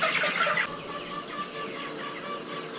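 Chickens on a vegetable farm, a few close, soft clucks and murmuring calls over a quiet background, with a brighter burst at the start.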